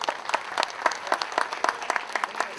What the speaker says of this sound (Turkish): Alkışlar gelsin efendim.